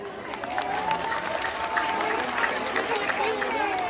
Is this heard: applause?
yes